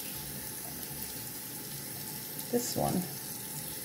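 Running tap water wets a bird's broken blood feather, a steady close hiss with a short spoken remark near the end.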